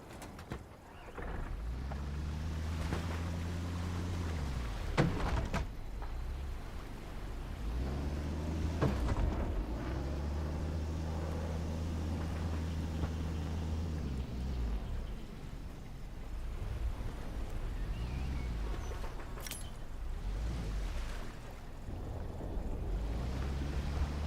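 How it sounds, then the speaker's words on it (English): A boat engine idles at a dock in Hell Let Loose: Vietnam, a steady low mechanical rumble with rising and falling throbs. It sits under constant wind- and water-like noise, with occasional knocks. "Pull the boat up to the dock and switch the engine off."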